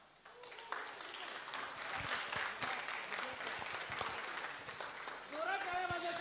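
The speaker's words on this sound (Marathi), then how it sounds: "टाळ्या वाजवा" An audience applauding at a karaoke competition award ceremony, steady clapping from a crowd that swells toward the end, with voices mixed in.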